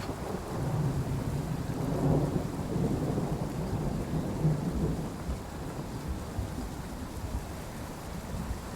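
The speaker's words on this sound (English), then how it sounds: "And the rain won't stop." Heavy rain and rolling thunder from a storm in the train simulator game Train Sim World 6, a dense continuous downpour with deep low rumbles swelling and fading throughout, loud and steady with no talking.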